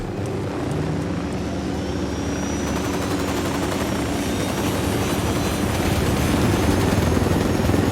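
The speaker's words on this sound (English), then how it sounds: "Copter, get down." A helicopter in the video game Ghost Recon Wildlands thrums close and loud, a continuous rotor and engine roar with fast chopping pulses, holding steady for eight seconds.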